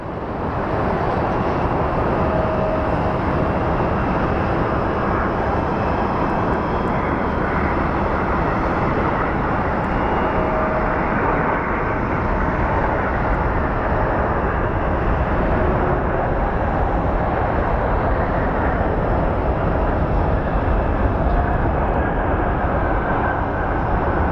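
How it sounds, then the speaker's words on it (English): A UPS MD-11 cargo jet at Sky Harbor International Airport gives a steady, loud, broadband engine roar that holds evenly for over twenty seconds with no talk. "It's a UPS MD-11."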